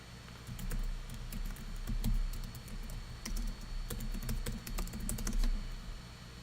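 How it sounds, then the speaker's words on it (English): Several people type rapidly on computer keyboards, a dense, continuous patter of close clicking keystrokes with a low room hum beneath and no talking. "Everybody's viciously typing."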